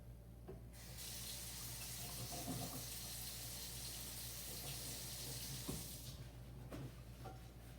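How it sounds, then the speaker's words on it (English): Running tap water pours steadily into a sink for several seconds while hands are washed under it before cooking, a continuous close hiss with faint splashes and no talking. "So I'm going to wash my hands first."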